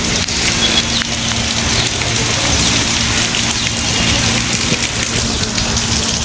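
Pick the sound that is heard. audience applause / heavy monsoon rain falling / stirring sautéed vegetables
heavy monsoon rain falling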